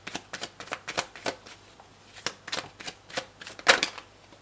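A deck of playing cards being shuffled in quick riffling bursts, a dozen or so papery flutters in uneven rhythm, close and fairly quiet, with no voices.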